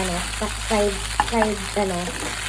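Pansit noodles fry in a pan with a continuous sizzle beneath a person's talking, and a brief clank of a utensil comes partway through.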